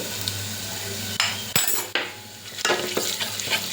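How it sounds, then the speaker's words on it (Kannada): Turmeric powder frying in a pan while a metal spoon stirs it, producing several distinct scraping clanks against the pan over a steady low sizzle, close and clear with no talking. "ಒಂದು ಸ್ವಲ್ಪ ಚೆನ್ನಾಗಿ ಇದನ್ನು ಫ್ರೈ ಮಾಡ್ಕೊಬೇಕು"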